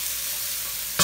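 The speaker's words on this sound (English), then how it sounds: "Let that saute for a couple minutes" Diced red pepper and onions sautéing in a pan make a steady, close hiss, ending in a sudden louder burst as they are stirred.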